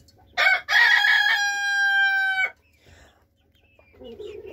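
Young Zagorsk salmon and Leningrad golden chicks call from close by on their first outing. One loud, drawn-out crowing cry lasts about two seconds, then quieter clucks and peeps follow.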